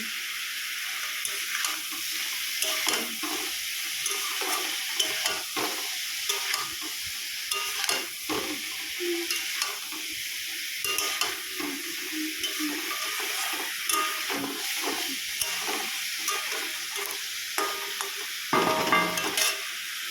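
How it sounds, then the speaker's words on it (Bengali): Small fish fry in hot oil in a pan at home, giving a continuous crackling sizzle with frequent spitting pops and a few louder bursts, steady and fairly close throughout. "এদিকে আমি ছোট মাছটাও ভাজতে দিয়ে দিয়েছি"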